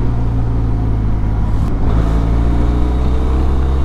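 Benelli inline-two motorcycle ridden through hills with a passenger aboard: a loud, steady engine drone with a strong low hum and a brief shift in tone partway through, heard close up.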